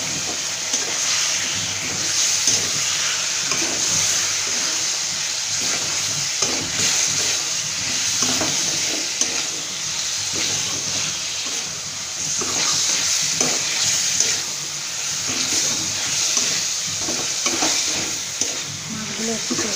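Hilsa fish frying in spiced oil in a home kitchen, a steady close sizzle and hiss running throughout with occasional stirring scrapes and bubbling, no voices.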